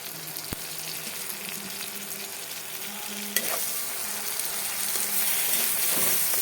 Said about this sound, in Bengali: ভাজা হয়ে গেছে, এবার আমি আদাটা দেবো।